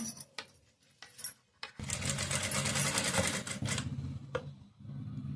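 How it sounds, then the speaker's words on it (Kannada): A sewing machine stitches fabric along a thread while making a blouse back-neck design. A few light clicks come first, then a loud two-second run of rapid stitching, and a final tick. "ಫಸ್ಟ್ ಈ ಥರ ಸ್ವಲ್ಪ ಸ್ಟಿಚ್ಚನ್ನು ಹಾಕೊಂಡು ಬಿಡಬೇಕು ಆ ಥ್ರೆಡ್ ಮೇಲೆ"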